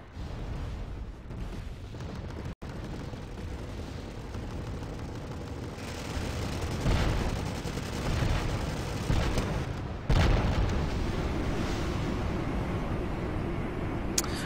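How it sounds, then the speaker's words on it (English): Heavy rumbling cluster bomb explosions in the Wargame Red Dragon video game, a continuous barrage of booms and crackling blasts that swells and surges loudly over the whole stretch. "That was a lot of cluster bomb."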